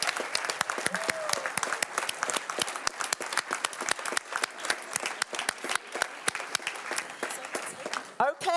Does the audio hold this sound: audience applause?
yes